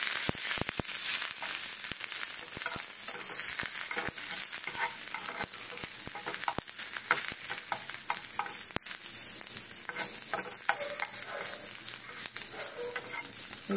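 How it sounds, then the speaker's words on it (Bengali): Curry leaves frying in a little oil for a batter-based snack, a dense steady sizzle with sharp crackles and pops running continuously at close range, no voices. "দেখো কারি পাতাটা আমি একটু ভেজে নিচ্ছি। সামান্য তেল দেবো,"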